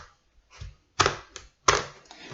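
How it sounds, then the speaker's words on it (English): A knife cuts a butternut squash in half with a few sharp, close chopping thuds spaced apart, preceded by softer scraping touches. "I'm going to cut it in half"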